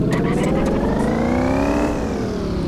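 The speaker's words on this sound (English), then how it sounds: "this car is actually really loud" A Porsche Cayenne Turbo engine revs loudly and steadily in the driving game City Car Driving, its pitch climbing smoothly for about two seconds before easing off, a constant close-up roar.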